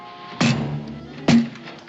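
Two heavy bangs on a wooden door, about a second apart, each a sharp thud that rings briefly, in a frontier TV drama scene with no voices over them.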